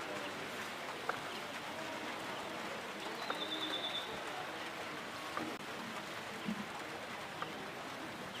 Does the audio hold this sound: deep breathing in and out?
no